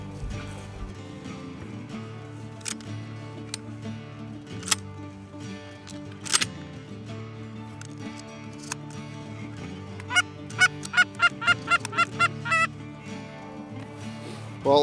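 Canada geese honking during an early-morning waterfowl hunt in the west, scattered single honks early on, then a quick run of repeated calls near the end, fairly distant over a quiet background.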